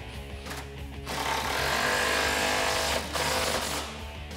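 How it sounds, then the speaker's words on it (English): An impact gun hammers a bracket bolt on a Ford Ranger step bar, a loud close burst of rattling blows lasting a couple of seconds with a short pause partway through. "final bracket up here toward the front, I'm just using my impact gun on"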